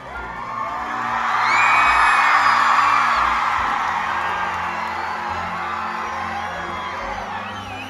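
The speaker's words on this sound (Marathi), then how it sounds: "सरांसाठी जोरदार टाळ्या" College students at a film promotion event give a loud, sustained round of applause mixed with whoops and cheers, swelling after a second and holding steady before easing slightly.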